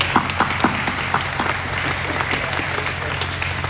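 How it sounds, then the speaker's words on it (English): Crowd at a hockey club honour ceremony applauds, a steady wash of clapping with a few sharp individual claps standing out near the start, over a low hall hum. "Maybe a little applause for them"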